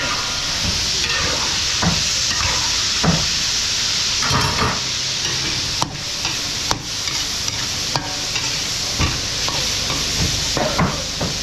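Food sautéing loudly in a hot pan, a dense constant sizzle broken by repeated scraping and tapping stir strokes, with no talking.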